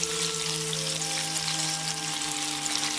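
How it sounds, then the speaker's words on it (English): Vietnamese/Chinese cabbage rolls fry in a pan with a steady, close crackle and sizzle that runs continuously, and a faint tonal hum sits beneath it. "You can just flip it right back on over and give it a little bit more of a fry."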